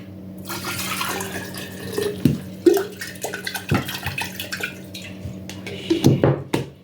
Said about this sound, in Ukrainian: Додамо водички.